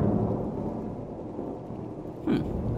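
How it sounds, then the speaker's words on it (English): Thunder from a storm rolls as a low, continuous rumble, with a louder crack or swell near the end, fairly near and without speech over it. "I thought that storm was gonna pass us by."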